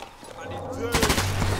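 Gunfire from the video game Sniper Elite 4 comes as a rapid burst of shots in the second half, following a brief stretch of quieter game sound.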